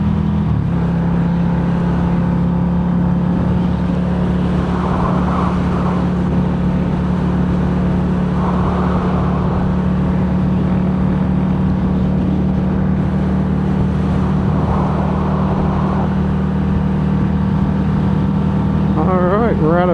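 An Italian Ducati motorcycle engine holds a steady, loud, close drone while riding on a New Mexico road, with a constant hum and rushing noise throughout.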